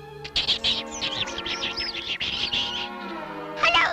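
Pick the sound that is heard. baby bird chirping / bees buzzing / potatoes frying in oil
baby bird chirping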